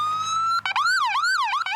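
A police siren wails from an armored MRAP vehicle, opening with a steady tone and then sweeping up and down in a loud, close yelp pattern.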